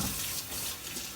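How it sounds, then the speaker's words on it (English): Water runs steadily from a tap into a sink, a continuous broadband rush with no talk over it, fairly even in level throughout. "Hold on, let me turn this water off."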